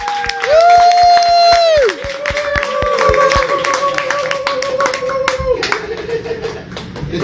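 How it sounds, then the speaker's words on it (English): A crowd at a fan event claps in a steady, rhythmic beat while people whoop and cheer loudly over it, and the clapping gives way to scattered cheering and crowd noise. "A round of applause, everybody."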